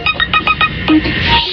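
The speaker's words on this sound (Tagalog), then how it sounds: "Phone ka na ni Benny" A cellphone ringtone plays in a radio drama: a loud, close series of rapid electronic chirps in a quick rhythmic burst, then a sustained tone fading out.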